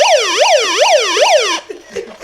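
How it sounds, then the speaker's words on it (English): A loud, close electronic megaphone siren whoops in rapid rising-and-falling sweeps, about five cycles, then cuts off abruptly into faint background noise. "Hey, make it do the siren."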